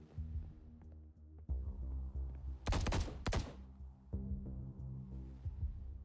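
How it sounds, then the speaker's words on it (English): Gunfire in The Bookwalker video game: two sharp, loud bursts of rapid shots cut through a low droning game soundtrack, with no talk over them. "Did I just hear gunshots? Yes, and they were close."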